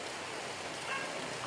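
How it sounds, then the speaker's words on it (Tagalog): Heavy rain pours during a flood, a steady dense hiss of water with no breaks, fairly quiet and even throughout. "Lakas ang ulan, guys."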